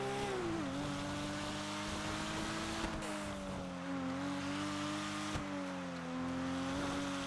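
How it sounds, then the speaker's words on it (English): A Porsche GT4 in a racing video game, its engine droning steadily at high revs with slight pitch dips during gear changes, loud and continuous, with no one talking. "That's the Porsche GT4 or S."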